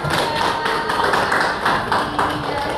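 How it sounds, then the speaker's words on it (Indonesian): Audience at a school counseling workshop clapping hands, loud rhythmic claps in fairly regular beats, close and prominent with no talk over them. "Kasih tepuk tangan dulu buat"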